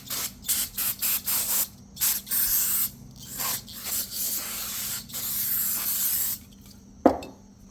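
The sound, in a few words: brake cleaner spray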